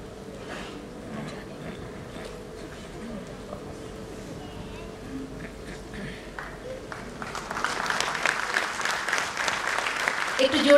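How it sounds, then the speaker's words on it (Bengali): An indoor audience at a community function bursts into applause, rising from a murmur of crowd noise into dense, loud clapping that grows toward the end. "একটু জোরে করতালি চাইছি সকলের কাছে"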